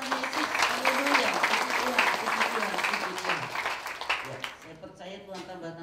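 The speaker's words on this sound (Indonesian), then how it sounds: "Berikan aplaus untuk Tuhan Yesus." A church congregation claps together in sustained, dense applause during a worship service, with a voice speaking over it and the clapping thinning out toward the end.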